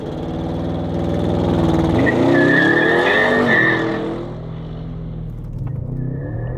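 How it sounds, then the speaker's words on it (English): Audi RS6 Avant using launch control from a standstill: a loud engine surge builds into hard acceleration with tire squeal as the car squirms off the line, then the roar eases toward the end. "Foot hard on the brake, foot hard on the throttle, and then it should launch."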